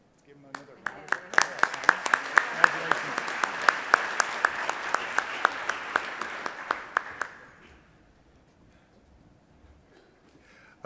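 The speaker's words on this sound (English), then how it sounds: "Let's give them another round of applause" A second round of applause for the 2019 Truck Dealer of the Year nominees at an awards event, lively clapping with prominent sharp claps that builds, holds for about seven seconds, then fades to near silence.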